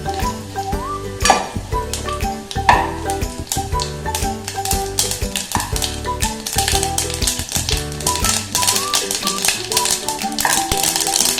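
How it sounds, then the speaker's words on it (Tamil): Dried red chillies crackle and sizzle in hot oil for a banana stem stir-fry, with steady frying noise and clattering, scraping stirring strokes against the pan near the listener. "மிளகாய் வத்தலை போட்டு கொஞ்சம் வறுத்துக்கோங்க"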